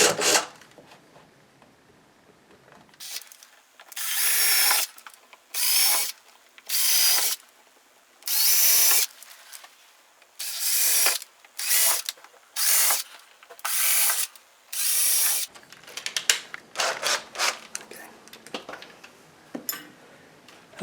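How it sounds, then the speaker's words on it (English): A 7/64 drill bit bores out screw holes while a bypass sliding closet door is installed, heard as a run of short, loud, closely spaced whirring bursts with pauses between them, alone and up close. "we're going to take our drill bit, the 7/64 drill bit, and we're just going to drill these holes out a little bit to accommodate the new screw"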